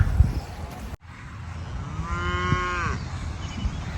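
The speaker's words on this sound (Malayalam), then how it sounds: "പോത്തുണ്ടോ? പശുവേ ഉള്ളൂ അല്ലേ?" A cow at an eco park in Iritty gives a single drawn-out moo of about a second, moderately close, after an abrupt cut, set against low outdoor background noise.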